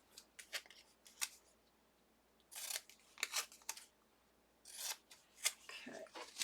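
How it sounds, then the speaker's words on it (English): Purple painter's tape being pulled from the roll and pressed down over a die on a die-cutting setup, heard as short close crackling tears in bursts separated by quiet gaps. "This is just the purple painter's tape. I do tape these down now."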